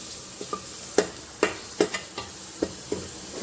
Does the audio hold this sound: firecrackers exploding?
no